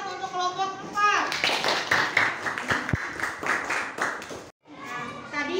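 Schoolchildren clap for a group in a classroom, a dense burst of many small hands lasting several seconds, close and lively, with children's voices mixed in and a brief pause before the clapping resumes.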